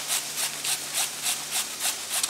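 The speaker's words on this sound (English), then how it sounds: "grating it up so I can make some hash browns" A peeled raw potato is rubbed against a grater for hash browns, giving rhythmic rasping strokes at about four per second, close and steady with no talking.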